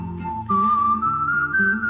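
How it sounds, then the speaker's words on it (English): Someone whistles the A Fistful of Dollars Western theme, a loud, clear melody with a long rising note and a soft backing accompaniment underneath. "it uses a whistle for the bulk of it, which is very Western-like"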